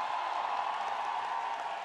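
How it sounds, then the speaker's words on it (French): A festival crowd applauding a guest, a steady wash of distant clapping that holds evenly without breaks. "Hugo Bernalicis, qu'on peut applaudir"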